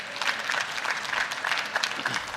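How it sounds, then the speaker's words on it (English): A crowd at an agricultural innovation challenge stage event applauds the judges, a dense, steady wash of many hands clapping at once, fairly even in loudness throughout and with no one speaking over it. "Let's give them a round of applause as well."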